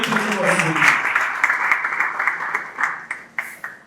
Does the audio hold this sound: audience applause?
yes